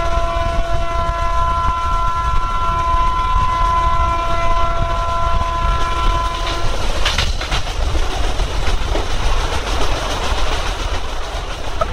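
An express train of 24 coaches with its locomotive running on an Indian line, a loud steady rumble with a long sustained horn blast over the first half, then wheel clatter continuing alone.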